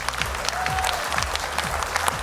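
Studio audience applause on the X Factor gala show, steady even clapping from many hands at moderate distance over a low musical background.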